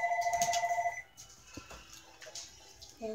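A phone rings with a quick repeating electronic trill for about a second, fairly close, then stops, leaving quiet room noise with a few small knocks.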